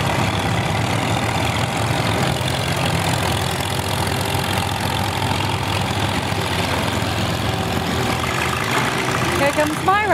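An engine idles with a steady low rumble at an outdoor tractor show, fairly close and constant throughout, with people talking faintly in the background.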